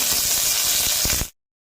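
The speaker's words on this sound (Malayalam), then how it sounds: "എണ്ണ ചൂടായിട്ടുണ്ട്, അതിലേക്ക് കടുകിട്ട് കൊടുക്കുന്നു." Mustard seeds, dried red chillies and curry leaves sizzle and crackle hard in hot coconut oil, a loud close steady hiss with a few popping bursts near the end before it cuts off abruptly.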